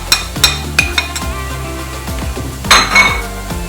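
Garlic cloves and half a seasoning cube go into a little oil in a pan, and the pan rings with sharp metallic clinks and utensil knocks as they are stirred. A soft sizzle sits underneath, and the clatter comes in uneven bursts.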